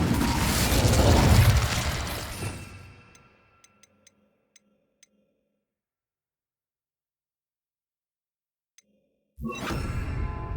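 A loud fiery whoosh and burst from the Incendio fire spell in Hogwarts Legacy fills the first few seconds, then fades into near silence broken by faint ticks, before another loud rush of sound returns at the end.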